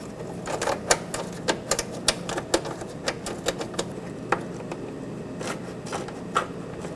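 Top bolts going into a fog light bracket on a 2011-2016 Ford F-350 make a quick series of sharp metallic clicks and taps. The clicks come in an irregular run over faint background noise, with no talking.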